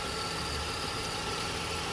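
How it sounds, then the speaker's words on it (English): A 2000 Ford Windstar's 3.8L V6, after a head-gasket-in-a-bottle repair and alternator replacement, idles with a steady, even hum and low vibration, alone with no voices. "The motor runs smoother than it did before."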